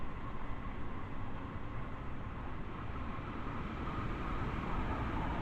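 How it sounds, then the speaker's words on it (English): Another train passing through a long tunnel on the Long Island Rail Road in Train Sim World, a steady low rumbling roar that swells slightly toward the end, with no voices. "another train going past us I think, but I can't really see"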